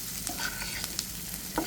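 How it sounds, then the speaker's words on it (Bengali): Hilsa fish cooking with whole garlic and onion is stirred briefly in a pan: several quick scraping strokes over a quiet, steady sizzle, with no speech. "একটু নেড়ে ছেড়ে দিচ্ছি বন্ধুরা"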